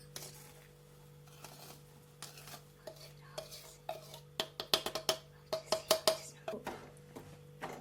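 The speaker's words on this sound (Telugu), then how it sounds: "ఇలా నెయ్యిలో ఈ పౌడర్ని వేయించుకుందాం." Moong dal powder roasting in ghee for pesara pappu laddus, stirred with a utensil that scrapes and clinks against the pan in a quickening series of sharp, close taps over a steady background hum.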